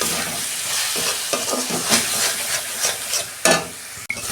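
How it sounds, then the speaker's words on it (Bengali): Chicken masala with chilli powder sizzles in oil while being stirred, a steady close frying hiss broken by scraping spoon strokes, with no talk. "এবার ভালো করে আমি কষাবো যতক্ষণ না তেল ছাড়ে।"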